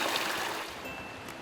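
Water flowing in the Daegwangcheon stream beside a pine forest trail in Uljin, a steady close hiss of rushing water with no voices.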